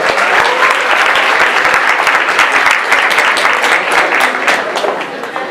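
Loud, close applause from an audience at a public science talk welcoming a panelist, a thick, sustained roar of many clapping hands that stays strong throughout with only a slight easing at the end.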